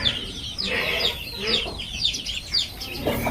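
Hens cluck and chatter in a steady, overlapping stream close by, with a murmur of voices faintly underneath.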